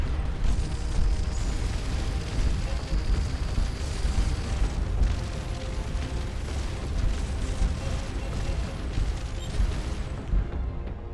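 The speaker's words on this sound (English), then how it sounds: "Send a bunch of missiles at it." Missiles exploding in the space game Starcom Nexus, a dense continuous roar of overlapping blasts and booms that stays loud and steady throughout.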